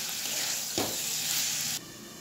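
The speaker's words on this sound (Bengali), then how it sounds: "এই বোনলেস চিকেনটিকে আদা পেঁয়াজ রসুনের সঙ্গে ভালো করে ভাজতে দেবো, মিডিয়াম হিটে রেখে ভালো করে ভাজতে দেবো" Boneless chicken frying with ginger, onion and garlic over medium heat gives a steady close sizzle, with a brief stirring scrape partway through before the hiss drops a little quieter; no voices.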